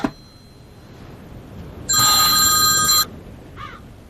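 A telephone rings once with a single loud, bright electronic burst lasting about a second, followed by a brief fainter chirp, in an otherwise quiet room.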